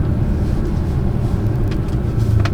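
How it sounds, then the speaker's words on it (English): A BMW F31 3 Series engine idles with a deep, steady rumble, loud and close, holding a constant low drone with no talking. "This car sounds good."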